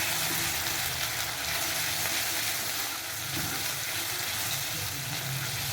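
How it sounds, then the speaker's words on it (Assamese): Onions and spices for a spicy duck curry fry in hot oil, a dense continuous sizzle with faint stirring scrapes, close and steady throughout with no talking. "এতিয়া দি দিম পিঁয়াজখিনি অলপ ভজা হোৱাৰ পিছতে মই মছলাখিনি যোগ কৰি দিছোঁ"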